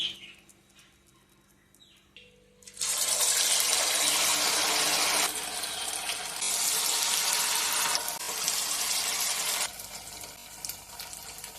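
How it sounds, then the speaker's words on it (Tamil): Tapioca sago vada balls drop into hot oil and burst into a loud, steady sizzle that swells and ebbs over several seconds, heard close up after a quieter start. "இப்போமா எண்ணெய் காஞ்சிருச்சு. இப்போ எடுத்து வச்ச உருண்டையில் சின்ன சின்னமாக தட்டி இது மாதிரி போட்டுக்கலாம்ப்பா."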